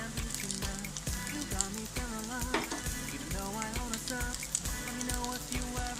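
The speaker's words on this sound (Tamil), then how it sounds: "இந்த ஸ்டேஜில் வெஜிடபிள்ஸ் லைட்டாக ஃப்ரை ஆனதுக்கப்புறம் சால்ட் சேர்த்துக்கலாம்" Chopped beans and carrot sizzling in oil in a pan for egg noodles, a dense steady crackle with repeated sharp scraping strokes of a spatula stirring at a regular pace, close and loud, with no talking.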